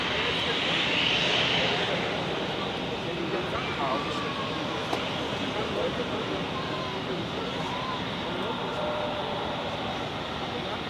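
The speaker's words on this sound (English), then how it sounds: "So we have an Edelweiss A320 followed by a Condor" An Edelweiss A320 followed by a Condor A321neo move at Zurich airport, seen from an observation deck, their engines making a constant loud roar that fills the scene.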